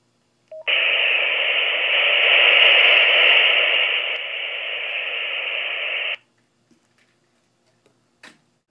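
A Motorola XPR 4580 mobile radio gives a steady, loud electronic tone lasting about five seconds during volume adjustment, followed by a few faint clicks and a brief blip.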